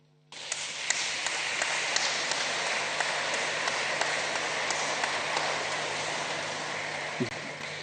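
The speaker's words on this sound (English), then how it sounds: "we all want to applaud you." Sustained applause from an audience at a memorial tribute gathering in Kenya begins abruptly after a short quiet and continues as a dense, steady patter of many hands with occasional sharper claps, under a faint constant hum.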